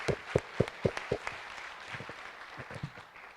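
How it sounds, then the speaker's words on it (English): Audience applause at a tech showcase event, starting with several sharp, loud claps close by that spread into softer, scattered clapping across the room. "I would ask you to give the young people who are leading this charge a round of applause"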